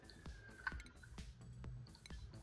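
In the game Oxygen Not Included, a water pump drains water with sparse wet drips and soft squishy clicks scattered irregularly over a quiet background.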